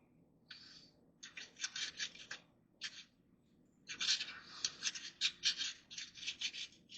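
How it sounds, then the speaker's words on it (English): A scraper rasps old gasket material off the rear differential of a 2003 GMC Sierra in repeated short, gritty strokes, close and fairly quiet, with a brief pause before a denser run of scraping. "Scrape what you can of the old gasket off."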